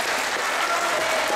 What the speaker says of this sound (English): And a round of applause from Matt Howard as well.